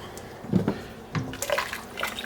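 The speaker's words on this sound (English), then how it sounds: "so we're going to add a bit more water" Water splashes into a pot of thick vegetable soup in a few short, uneven gushes and drips, close by and moderately loud, with no talking.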